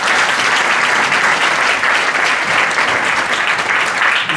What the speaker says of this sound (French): je vous propose de les applaudir pour leur donner un peu de courage